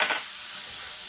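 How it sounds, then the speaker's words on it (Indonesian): Chili and green beans drop into a hot pan for a tofu dish, setting off a sharp burst of sizzle at the start that settles into a steady, close frying hiss. "masukkan cabai, buncis,"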